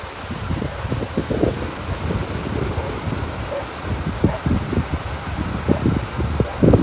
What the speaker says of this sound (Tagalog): karon ang madungog ninyo ang haguros ni sa hangin no medyo kusog-kusog ang hangin